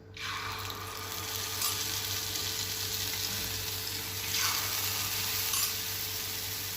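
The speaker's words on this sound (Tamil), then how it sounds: "இப்போ இந்த முட்டை கலவையை ஊற்றிடலாம்" Egg and carrot batter in ghee in a hot paniyaram pan gives a loud, continuous, close hiss and sizzle, holding steady throughout with a low hum underneath.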